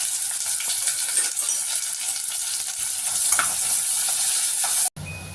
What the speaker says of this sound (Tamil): வெங்காயம் நல்லா கொஞ்சமாக வர வரைக்கும் வதக்கிக்கலாம்